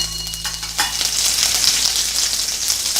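Cumin seeds, urad dal and curry leaves sizzle and crackle in hot oil in a pan, a close, steady frying hiss with a few stirring scrapes early on.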